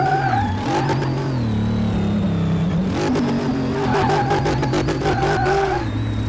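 Car engine revving hard in Car Mechanic Simulator 2018, a junkyard pickup with huge horsepower, its pitch climbing and falling in sustained loud surges as the wheels spin, with no talk over it.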